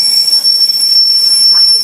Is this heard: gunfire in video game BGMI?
no